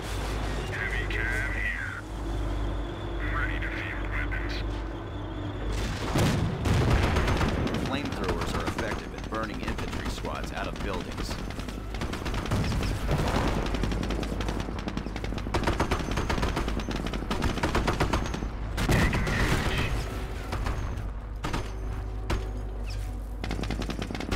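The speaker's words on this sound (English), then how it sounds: "Use both your Sherman and the Crocodile. Ready. Firing weapons." Sherman and Crocodile tanks firing on a German base in Company of Heroes: sustained machine-gun bursts and heavy cannon blasts roll on loud and close throughout, with voices and battle noise mixed in.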